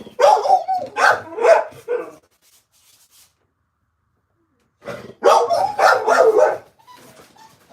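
A dog barks in two clusters of several quick, loud, close barks, with a few seconds of quiet between them.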